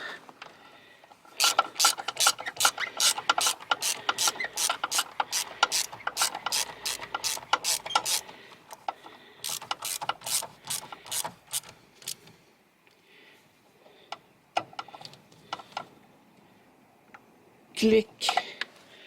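A ratchet wrench clicks in fast repeated bursts as the ABS pump motor of a car is screwed back into place, close and crisp, with short pauses between runs of clicks and a clunk near the end.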